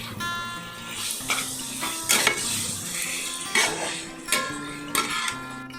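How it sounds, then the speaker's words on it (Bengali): Boiled chicken pieces for chicken bharta are stirred in a pan, a spatula scraping and clattering in repeated strokes over a steady frying sizzle, with a faint background tone running underneath. "দিয়ে ভালো করে নাড়াচাড়া করলাম।"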